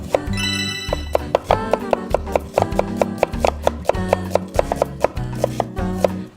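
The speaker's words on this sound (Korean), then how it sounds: "양파 그거 그냥 이렇게 썰어주시면 돼요." Onions sliced with a knife on a board in a television cooking studio: a quick, steady run of crisp chopping taps over background music.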